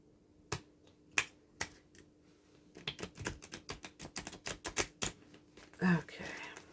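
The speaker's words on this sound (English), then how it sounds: "I'm just gonna shuffle it a little more." Sharp clicks give way to a rapid fluttering riffle of cards being shuffled close by, ending with a brief soft scrape.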